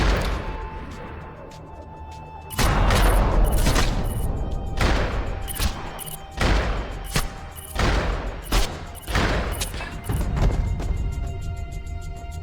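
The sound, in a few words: shotgun gunfire in video game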